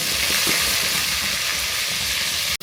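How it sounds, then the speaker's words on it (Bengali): Onion, garlic and ginger paste fries in white oil in a wok, a loud, constant sizzle with a faint stirring texture, ending in a brief sharp knock followed by a short gap. "কড়াইতে দিয়ে দিব সাদা তেল। আমরা প্রথমে দিয়ে দিব পেঁয়াজ, রসুন এবং আদা বাটা।"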